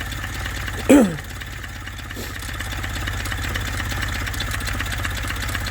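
Steady low engine rumble of an idling car, continuous throughout, with a brief louder knock near the start.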